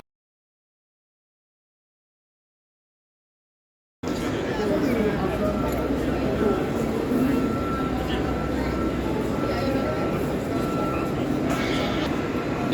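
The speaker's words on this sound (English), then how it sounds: "These are Great Western Rail trains at Paddington, and they will be traveling here to different destinations as in their schedule" Great Western Railway trains in the large, echoing Paddington station in London: a steady rumbling hum of rolling stock and station noise with faint crowd chatter, starting abruptly after several seconds of silence.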